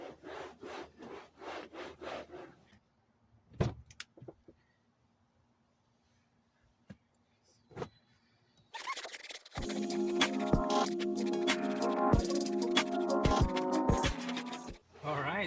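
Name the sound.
wiping a car floor mat with a wet towel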